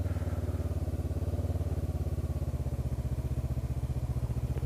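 A Honda CB500X motorcycle ridden slowly, its parallel-twin engine producing a rhythmic, evenly pulsing low thrum at a modest level, steady throughout with no talk.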